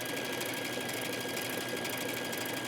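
A sewing machine fitted with a single-hole needle plate stitches fine knit fabric with mesh inserts for a yoga top, giving a steady, faint, even mechanical hum throughout, with no talking.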